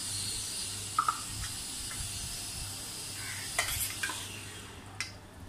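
Cooked vermicelli and sago with green food colouring are stirred for falooda. Soft, faint scraping and swishing comes with a few light clinks against the pot, alone without talk.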